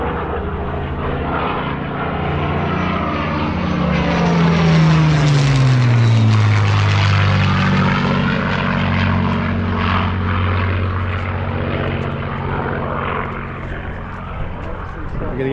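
A Spitfire roars overhead at an MG centenary event at Gaydon, its propeller engine swelling loud as it passes and sweeping down in pitch before it drones away, with people talking underneath.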